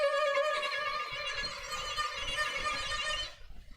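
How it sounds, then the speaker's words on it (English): A violin note bowed sul ponticello, with a thin, raspy, glassy edge, rich in bright overtones, sustained steadily for about three seconds before stopping. "So you hear how it becomes raspier?"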